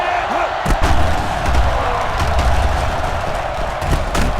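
A stadium crowd in the video game Madden 12 cheers a catch with a loud, steady roar that swells and holds throughout, with a few thumps on top.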